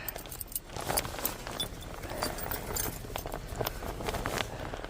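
Car keys jangle and clink repeatedly up close in brisk bursts, with rustling and faint outdoor rain-season ambience around them.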